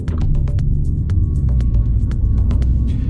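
A 2018 MINI Clubman Cooper S engine under way on the road gives a loud, steady low drone with a throbbing hum, heard close and continuous with no voices.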